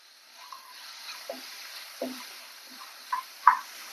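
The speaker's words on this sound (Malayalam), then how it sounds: "ടൊമാറ്റോ പീസാക്കിയത്, കുറച്ച് കാഷ്യൂ നട്ട് എന്നിവ ചേർത്ത് നന്നായി വഴറ്റിയെടുക്കാം." Tomato pieces and cashew nuts sautéed in a pan for chicken curry: soft, sparse scraping stirs and light clinks against the pan over a faint background hiss, quiet and close.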